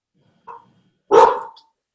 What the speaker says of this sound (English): it's my dog.